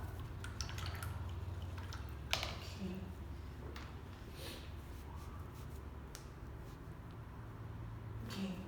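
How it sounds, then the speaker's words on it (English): An acrylic painter's brush is rinsed in a water cup, giving soft drips, taps and light sloshing against a low steady background hum. "now, wash your brush up"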